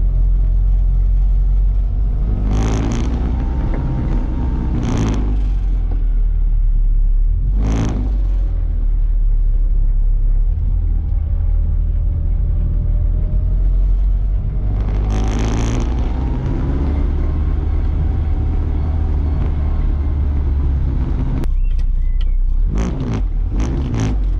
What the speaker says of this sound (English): So let's go for a bit of a drive, just a little slow drive about